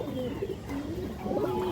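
A male Bagha pigeon with bright red eyes coos close by, a short, soft, throaty burst of repeated low notes.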